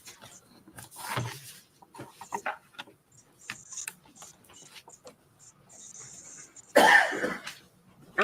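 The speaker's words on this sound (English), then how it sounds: "Oh, dude, don't cough into the camera." A few sharp coughs break through a quiet room, the loudest burst near the end, with faint ticking and rustling between them.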